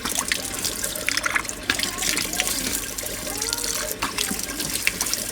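Tap water runs steadily during the rinsing of a sunnah ghusl ablution, a continuous close splashing flow with drips, with no talk over it.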